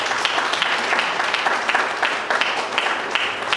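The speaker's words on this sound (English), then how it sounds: "A big round of applause to Toastmaster Rohan." A club audience gives Toastmaster Rohan a round of applause, steady dense clapping from a room of people for a few seconds.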